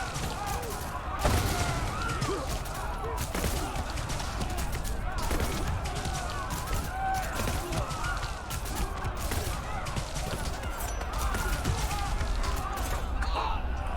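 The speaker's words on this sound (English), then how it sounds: "That is my friendly city shooting from nearby here." Friendly city in the video game Dune: Spice Wars firing from nearby, with dense, continuous volleys of gunfire cracking in rapid succession throughout, loud and close, and talk over the shooting.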